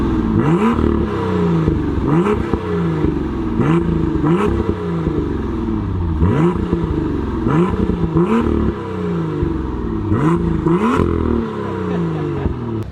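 BMW M2 F87 fitted with a Wagner Tuning downpipe, revved repeatedly in Sport Plus mode: loud, close blips climbing and dropping in a steady rhythm of about a dozen rises, with no talking.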